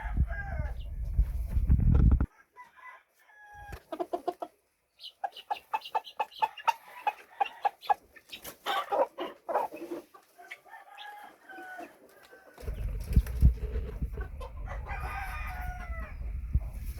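Phoenix chicken stags on a farm crow and cluck in a series of loud calls with quiet gaps between them, while low rumbling background noise comes and goes at the start and end.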